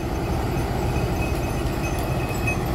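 An Indonesian passenger train pulls into a station and comes to a stop. A continuous close rumble of wheels and carriages holds at an even level throughout, with no voices.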